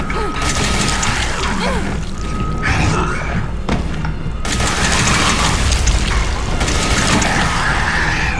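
Gunfire in the video game Resident Evil 7 sounds amid a dense, loud wash of mechanical clanks, thuds and booming game effects that runs without a break.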